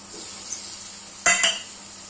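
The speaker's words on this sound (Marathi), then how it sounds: "आता ही वाटण टाकून घेऊया" Two quick, close metallic clunks against a pan as ground masala paste is added to frying snake gourd for padwal bhaji, over a faint steady hiss.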